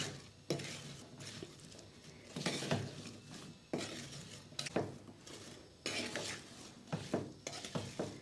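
A spoon stirs carrot and green chili pickle with spices in a metal bowl, producing repeated scraping clinks and rustling thuds at an uneven pace, close by, with no voices.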